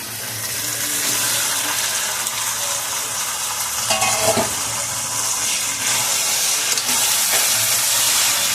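Small pre-fried shrimp hit a hot pan of oil, giving a steady, loud sizzle with some stirring and scraping and no voices.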